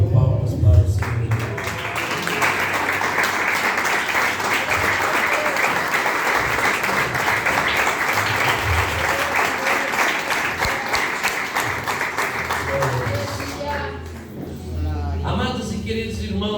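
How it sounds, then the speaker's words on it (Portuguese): Church congregation applauding during a Portuguese-language sermon, a dense, steady wash of many hands clapping that fills the whole stretch with only a slight dip near the end. "você que pode ter a melhor salva de palmas para o Senhor"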